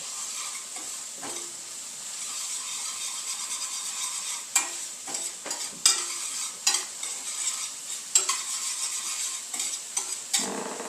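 Sliced mushrooms browning in a frying pan, with a steady sizzle and hiss under repeated scraping and clattering stirs of a utensil against the pan, close and without talk.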